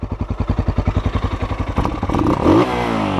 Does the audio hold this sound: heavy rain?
no